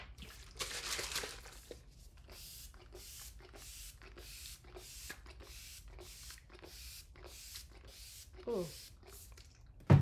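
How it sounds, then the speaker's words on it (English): Makeup setting spray hisses out in a long burst near the start, followed by a rapid series of short evenly spaced spritzes, close to the mic, with a brief spoken exclamation near the end. "I think I sprayed a little bit too much."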